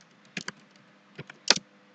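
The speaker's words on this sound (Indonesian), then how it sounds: "kalau misalnya kita coba untuk" Typing on a computer keyboard: a few crisp, close key clicks in small clusters, with short pauses between bursts and no voice.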